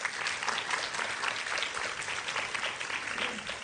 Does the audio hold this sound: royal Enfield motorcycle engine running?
no